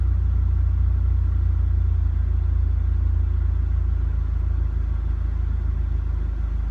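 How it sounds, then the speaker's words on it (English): A Subaru WRX engine idles with the air conditioning running, a steady low rumble that holds even and unbroken throughout, close and fairly loud, with no voices. "I have it idling right now with the AC on."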